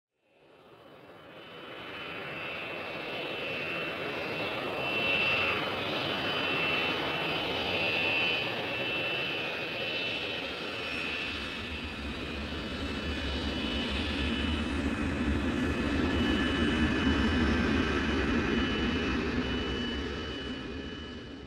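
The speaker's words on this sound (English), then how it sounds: "Airplane." A fixed-wing airplane engine drones continuously overhead, a broad roar that swells in from silence and holds steady and loud for about twenty seconds, with no voices.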